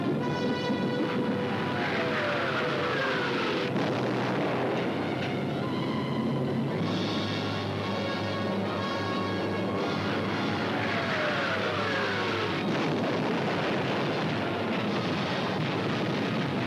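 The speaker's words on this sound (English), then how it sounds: "All the available German night bombers were put into the air." German night bombers drone overhead in a dense, loud, continuous roar of aircraft engines with rising and falling tones, sustained at steady volume with no speech.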